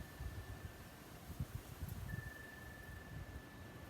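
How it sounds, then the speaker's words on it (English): Steady wind rushes and buffets against the microphone, with low gusty rumbles and a faint rustle, no voices present. "I don't know if you can hear that wind or not, but man, it's pretty nice windy"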